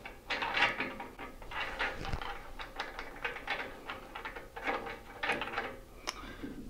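Star knobs being fitted and turned onto bolts through a saw's trunnion base in a small woodshop, a close run of clicking, ratcheting and knocking handling sounds with no talk.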